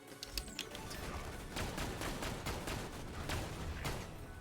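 A high-rate-of-fire gun in a video game rattles off rapid, tightly spaced shots in quick bursts, fairly faint and continuous for several seconds.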